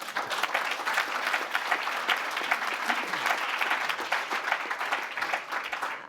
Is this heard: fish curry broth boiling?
no